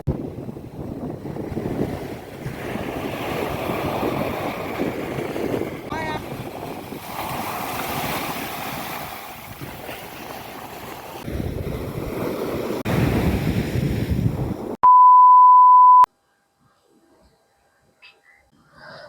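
Sea surf rolls onto Bakkhali beach in a broad roar buffeted by heavy wind on the microphone, cut off by a brief steady electronic beep before near silence.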